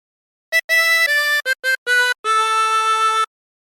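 A 16-hole tremolo harmonica plays a phrase of The Wellerman: a run of short, clean separate notes followed by one long held note, solo and close with no voices.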